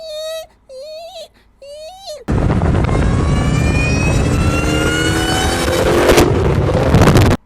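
A Dodge Hellcat Redeye engine roars loud and close after a few short tonal bursts, holding a dense, snarling blare with a rising whine layered on top for several seconds before cutting off.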